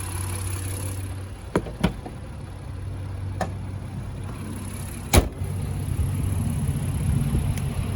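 A 2019 Honda Ridgeline Black Edition pickup idles with a steady, low engine hum. A few sharp clicks and ticks break in, and no one talks.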